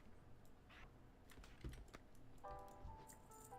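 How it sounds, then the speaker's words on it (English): An old computer keyboard clatters with quick, uneven bursts of key clicks during gaming, close but quiet, with a brief tonal chime from the game partway through. "I'm sure you guys hear my keyboard going click click click click click a lot sometimes"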